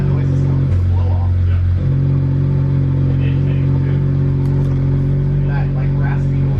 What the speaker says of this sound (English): Most of that noise is coming from the blow off.